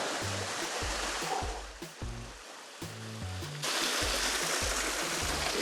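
Water from a hillside stream rushes and splashes in a continuous broad hiss outdoors on a walk, with low tonal thumps and knocks breaking in over it and a louder surge toward the end.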